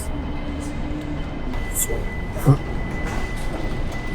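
Train pulling into the Hong Kong airport station, a low rumbling rail hum with brief chime-like tones and a sharp clank, heard under station announcements and people talking.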